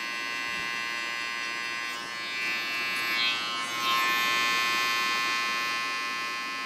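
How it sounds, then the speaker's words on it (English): Detachable hair clipper buzzing steadily while cutting a fade haircut, a constant electric hum with slight rises as the blades work the hair corners, close and alone. "you're not going to use the whole clipper, just the corners"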